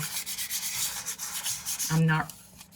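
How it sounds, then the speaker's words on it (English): Light hand sanding with 600 grit sandpaper across a watercolor-painted laser cut wood ornament, a soft scratchy rubbing in short repeated strokes, close and quiet, with a brief stronger swipe near the end. "So I have some 600 grit sandpaper."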